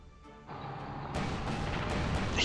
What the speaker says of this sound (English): He goes for the anti-tank gun.